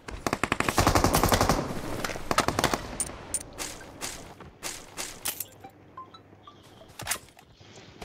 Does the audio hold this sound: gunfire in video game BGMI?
yes